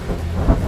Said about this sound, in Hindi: बहुत बारिश हो रही है, अब तुम लोग घर जाओ।